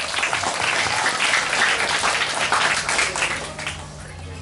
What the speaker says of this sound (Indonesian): Tepuk tangan untuk Febriono